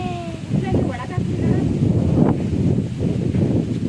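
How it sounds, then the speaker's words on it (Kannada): Strong wind buffets the microphone in rumbling gusts, with voices talking faintly underneath. "ಗಾಳಿ ಗಾಳಿ ಗಾಳಿ ಅಲ್ವಾ"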